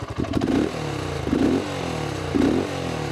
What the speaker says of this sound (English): This is at medium revs.